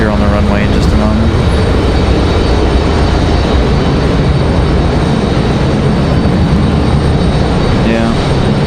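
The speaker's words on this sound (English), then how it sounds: "we do have another Delta headed back to Atlanta here. I'm going to roll out here on the runway in just a moment." A Delta airliner rolls out along the runway at Raleigh-Durham International, its engines sending a steady, loud broadband roar that holds evenly throughout, with a faint voice at times.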